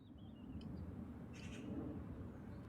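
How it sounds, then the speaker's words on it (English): Birdsong ambience in a Windows XP-era town video game: a few faint, brief chirps and calls over a quiet steady background, with no voices. "Birds are so loud. That's really the only ambiance we've got here."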